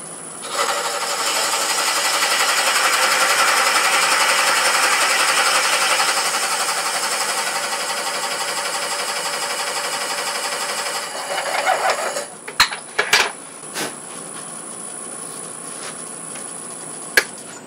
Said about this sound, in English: I can bring the Forstner bit up exactly in that center spot. Again, running about 300 RPMs.